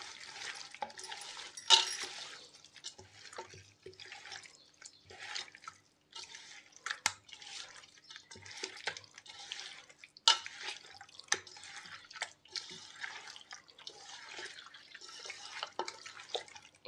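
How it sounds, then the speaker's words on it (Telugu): Chicken biryani marinade being mixed by hand with lemon juice: soft, wet squelching and stirring in irregular bursts, quiet and close, with no talk. "ఈ నిమ్మకాయ రసాన్ని యాడ్ చేసేసుకుందాం, గింజలు రాకుండా ఇలా. ఇప్పుడు దీన్ని బాగా కలిపేసుకుందాం."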